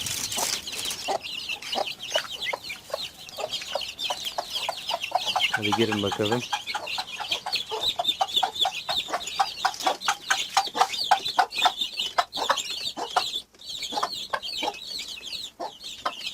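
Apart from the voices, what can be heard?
hen and chicks clucking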